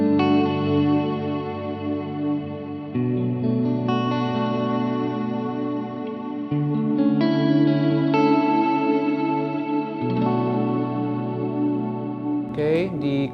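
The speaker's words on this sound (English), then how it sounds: "let's just play some chords over the Revelation right now" Sustained electric guitar chords through a Jet Pedals Revelation reverb pedal ring out one after another, each washed in a wide, shimmering reverb with chorus-like modulation, loud and continuous with no voices.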